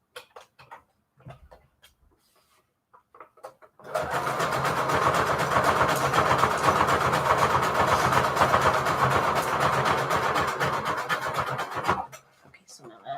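A sewing machine stitching down a double signature for a handmade junk journal runs in one steady, loud mechanical burst for about eight seconds, preceded by quiet handling sounds and faint talk.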